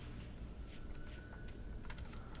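Computer keyboard keys pressed hard while playing Alan Wake, a few soft clicks and a denser cluster of taps near the end, faint under steady background game noise, no voices.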